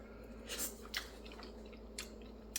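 Someone chews a mouthful of cream cheese and cheddar mixture, the filling for venison jalapeno poppers, with a few soft, wet bites and squishes up close in a quiet room.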